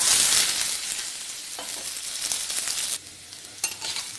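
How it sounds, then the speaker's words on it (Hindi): Black mustard seeds and cumin spit and crackle in hot oil for a dosa-style tempering, a dense, steady sizzle with sharp pops that thins out near the end, close and with no talking. "उसमें थोड़ा सा डालेंगे काला वाला सरसों और थोड़ा सा जीरा, वो तड़क जाएगा"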